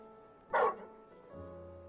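A dog in a fantasy video game gives a single short, clear bark, followed by a quiet low hum.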